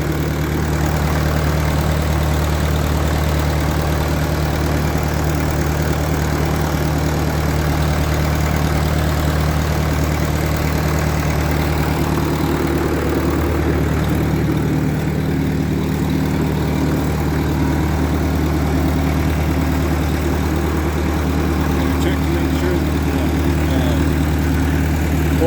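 A Caterpillar D2 bulldozer engine idles close by, a steady low rumble with a continuous mechanical drone that holds unchanged for the full stretch, with no voices over it.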